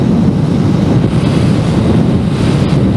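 Cold winter wind roars past the microphone while riding a Benelli 302s motorcycle at speed, a loud, continuous low buffeting rush that masks nearly everything else, with no talking.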